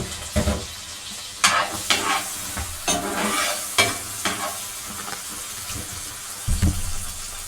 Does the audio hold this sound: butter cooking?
yes